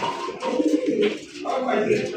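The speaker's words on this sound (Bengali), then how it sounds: "এটা 7-8 ফেদারের কবুতর" A young 7–8 feather fancy pigeon at a farm gives soft, throaty cooing in short close repeated phrases, over faint background voices.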